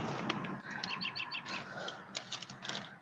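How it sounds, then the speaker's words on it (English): A bird calls close by with bright repeated chirps and short tweets in quick bursts, fairly faint against soft background noise. "There's a bird somewhere very near."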